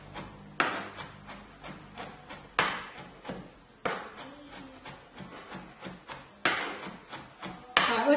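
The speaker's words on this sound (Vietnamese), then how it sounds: "Tỏi ớt chúng ta băm nhuyễn." Garlic and chili are minced with a knife on a cutting board for Vietnamese beef nem chua, with sharp chopping strikes that come in quick rhythmic bursts, close and fairly quiet.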